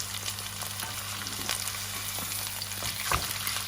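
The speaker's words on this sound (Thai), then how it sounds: "เอาเนื้อหมูลงไปทอด ทั้งสองชิ้นเลย" Two pieces of pork frying in oil in a pan, a steady close hiss and sizzle with occasional soft pops and a brief clunk near the end, without talking.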